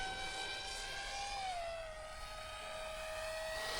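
An RC F-22 model jet's motor runs at full throttle, a steady high-pitched whine whose tone dips slightly partway through, loud and close with no talk.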